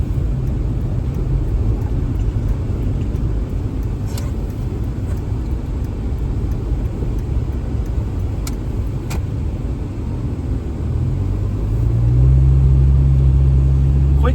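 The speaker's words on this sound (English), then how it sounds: "Quick drive around town." A car drives through a small town after a blizzard. The engine and road rumble stay steady and close throughout, swelling louder near the end, with no talk.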